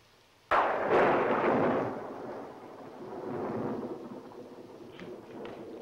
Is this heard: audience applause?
no